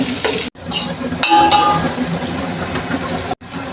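Onions frying in a pan for biryani, a close crackling sizzle with stirring clatter and utensil scrapes, cut by two brief silent gaps.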